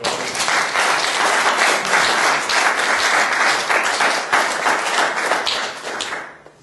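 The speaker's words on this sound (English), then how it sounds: "Round of applause," A church congregation breaks into loud, sustained applause, dense clapping from many hands that holds steady for several seconds before fading out.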